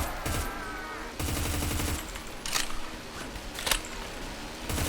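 Rapid automatic gunfire from a fully upgraded MK-16 MOD 2 rifle in the Roblox game Deadfront, loud sustained bursts with short pauses and a few sharper cracks, no talking.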